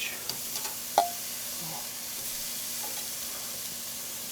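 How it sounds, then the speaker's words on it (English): Vegetables sizzling on a very hot grill, including mushrooms, with a steady faint frying hiss and a few soft clicks and a brief clatter near the start. "We're going to grill. Start grilling the veg."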